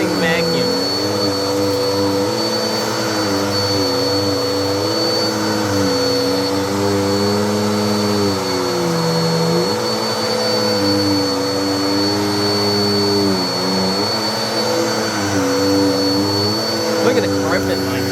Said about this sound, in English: This is an amazing vacuum.